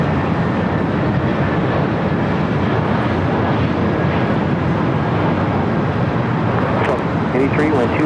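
An Air Canada Airbus A321 at LAX produces a loud, sustained broadband roar from a jet engine that stays constant throughout, with faint higher hiss and no talk over it.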